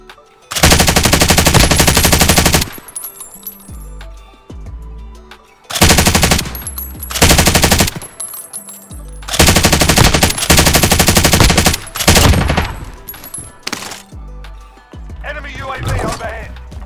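Stoner light machine gun firing in COD Warzone, loud sustained bursts of automatic fire in several long strings separated by short pauses, with faint game effects between them.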